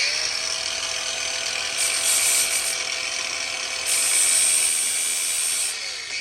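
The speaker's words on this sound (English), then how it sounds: "you put it on your side grinder, and this particular one is a 36 grit, so it's pretty hefty" An angle grinder fitted with a coarse 36-grit flat sanding disc works the edge of an Estwing Black Eagle steel tomahawk, a steady close whine and abrasive rasp that swells louder in brief stretches, with no talk.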